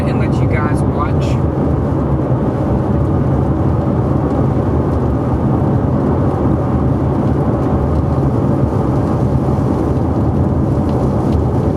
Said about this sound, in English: Starting to rain pretty good